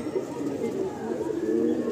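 Continuous low cooing of pigeons in a loft, several birds murmuring close together, with a voice talking faintly over them.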